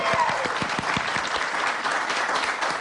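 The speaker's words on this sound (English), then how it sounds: "Big round of applause." A lively round of applause from a studio audience, dense clapping that stays even and fairly close throughout with no voices on top.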